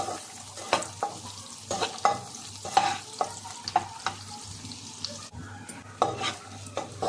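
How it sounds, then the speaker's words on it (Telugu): Cashews and almonds frying in butter until lightly coloured, a steady soft sizzle under repeated sharp scraping clinks of a spoon stirring the pan, no voices. "బటర్లో. కొద్దిగా లైట్ కలర్ వచ్చేంత వరకు వేయించుకోండి"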